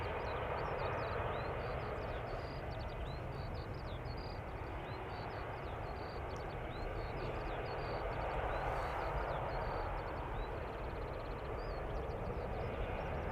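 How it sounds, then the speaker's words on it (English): Airliners spooling up on a runway at Schiphol Airport, a steady broadband jet roar sustained throughout at moderate distance, with a faint high whine riding above and no voices. "Also hearing airplanes spool up on a runway center"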